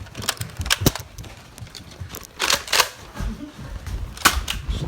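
Nerf blasters firing during a family Nerf war: a rapid scatter of sharp clicking pops, some close and loud, others fainter, in irregular bursts.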